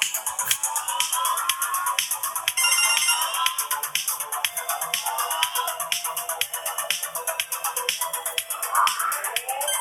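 A mobile phone ringtone plays loud and close, a rapid repeating electronic melody with a steady pulsing rhythm that runs continuously throughout.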